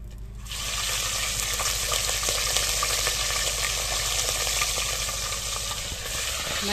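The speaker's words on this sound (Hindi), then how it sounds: "अपना जी मच्छी वगैरह फ्राई कर रही हैं" Fish frying on a clay stove outdoors, a steady loud sizzling hiss that continues without a break from just after the start to the end, with no voices.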